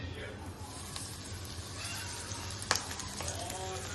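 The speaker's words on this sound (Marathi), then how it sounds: "आता आपण फ्राय करायला टाकूया." Semolina-coated prawns fry in hot oil in a pan over medium gas, giving a steady, close crackling sizzle with a few sharper pops.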